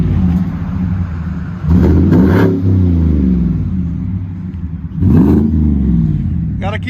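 A supercharged GMC Sierra 6.2L V8 with straight pipes rumbles at a deep idle, then is blipped twice into loud revving bursts that fall back to the low burble, with someone talking over it.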